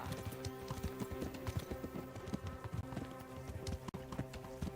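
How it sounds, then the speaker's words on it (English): Horses' hooves clip-clopping in Kingdom Come: Deliverance, a steady, dense run of hoof taps on the ground, close and continuous under faint background sounds. "the other horses"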